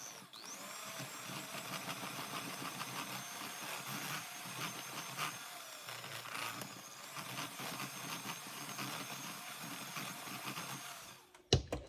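Mascarpone is mixed into beaten egg yolks for tiramisu, giving a continuous close whirring and rattling churn that wavers slightly in strength, then ends with a brief sharp clatter.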